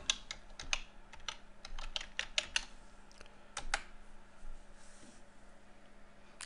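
Typing on a computer keyboard, with a quick series of sharp, close key clicks in uneven bursts and short pauses between them, over a quiet room hum.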